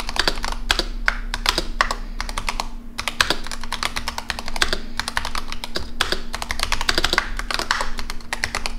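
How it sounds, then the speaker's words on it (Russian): Typing on a Razer Huntsman V2 Analog keyboard: bursts of close, crisp key clacks in quick irregular runs, separated by brief pauses, with a faint steady electrical hum underneath. "Клавиатура звучит вот так."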